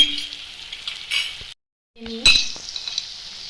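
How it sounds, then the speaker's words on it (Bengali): Tomato and crushed garlic hit hot oil in a pan with a bright, crackling sizzle. A sharp metallic clink and spatula scrapes follow a brief silent gap, all close and fairly loud. "টমেটো, দিয়ে দিচ্ছি থেতো করা রসুন,"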